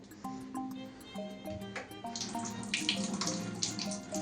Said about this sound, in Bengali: হাত ধোবো তো দেখি